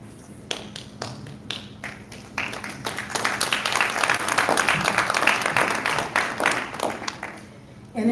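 Audience clapping at a community symposium. It begins with scattered single claps, swells into full applause from a crowd in a hall, then thins out again near the end.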